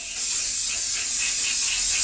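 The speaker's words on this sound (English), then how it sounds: "I'm gonna give this a quick spray" A steady, close hiss of hairspray from an aerosol can misted onto a styled prom or wedding updo, one continuous burst of about two seconds with no talking.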